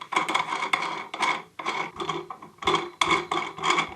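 Screw-in desk legs are twisted by hand to change the desk's height, giving a string of short, close rasping scrapes with brief pauses between them.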